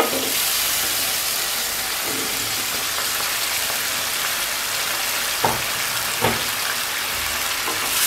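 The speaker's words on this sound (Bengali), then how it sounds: "এবার কেটে রাখা কাঁচকলা আর আলুটাকে আমি" Green banana and potato pieces cooking in a spice masala with a little added water in a wok over raised heat, giving a steady close sizzle and steam hiss with two brief clatters near the end.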